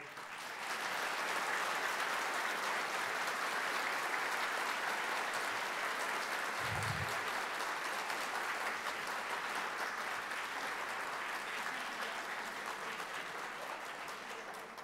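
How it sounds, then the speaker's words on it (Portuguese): A crowd at a Municipal Guard Day ceremony gives a long round of applause for one of the guard's members, a steady, even sound lasting nearly fifteen seconds, slightly distant and with no speech. "dessem uma salva de palmas para o Ricardo"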